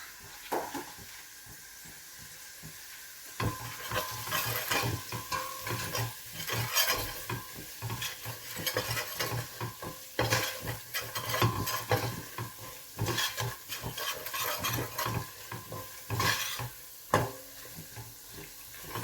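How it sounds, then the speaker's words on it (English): Homemade masala frying in a pot with steady sizzling and repeated stirring scrapes that start after a quiet opening and continue in a busy, close rhythm. "Again, you fry it out a little just so that it's cooked, but don't let the stuff burn."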